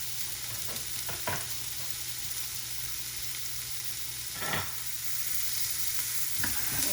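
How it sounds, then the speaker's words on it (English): Hot links browning in a skillet give a continuous hissing sizzle, with a few brief scrapes of stirring and nobody talking. "I just add the hot links to the skillet to get those nice and browned"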